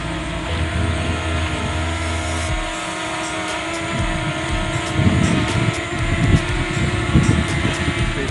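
A DJI Mavic Mini drone hovers steadily just after takeoff, its propellers giving a continuous whirring buzz with a lower rumble that grows somewhat louder and rougher in the second half.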